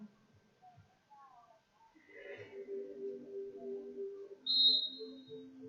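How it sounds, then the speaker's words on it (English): A referee's whistle signals the start of an under-18 individual heat at the 2021 European mounted games championships in Denmark, a single bright blast near the end, heard over crowd murmur and distant announcer talk. "The whistle has gone."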